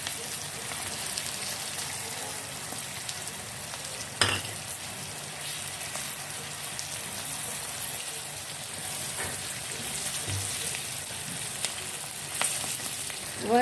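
Kalonji seeds with turmeric fry in oil with a continuous close sizzle like light rain, steady and even, with a couple of brief utensil taps along the way.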